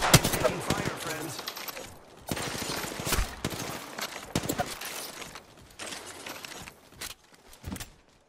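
Gunfire in Apex Legends, rapid bursts of automatic weapon fire in repeated clusters, loud and close, with game announcer lines and voices spoken over parts of it.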